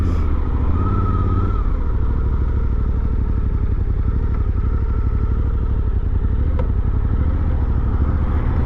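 A Suzuki V-Strom 800DE motorcycle rolls along slowly, its engine giving a steady low rumble with some mechanical clatter.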